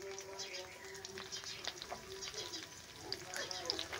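Onions sautéing in a pan on a home stove ahead of adding broad beans, a steady soft sizzle and frying crackle running throughout with light stirring clatter.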